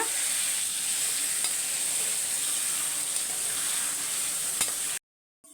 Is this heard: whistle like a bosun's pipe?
no